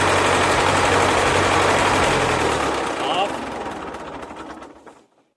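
A Ford 9N tractor engine runs close and loud with a steady, throbbing rumble, then winds down and fades to silence over the last couple of seconds.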